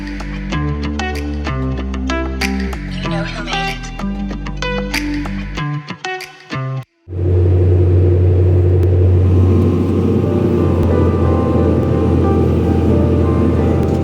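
A combine harvester engine runs with a loud, steady low rumble and mid-range mechanical noise, held continuously after a brief gap that follows a passage of music.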